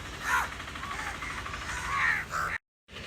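Crows cawing outdoors as food is set out for them, several harsh calls in short bursts at moderate distance, with a brief silent gap near the end.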